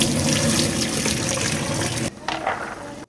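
Cooked spaghetti noodles are drained, water pouring loudly into a sink for about two seconds before stopping abruptly, followed by faint splashes and drips.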